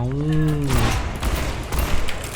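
Cassidy's gunfire in the video game Overwatch 2, a dense burst of loud shots and booms layered over a descending tonal game effect, with a voice talking excitedly over the action.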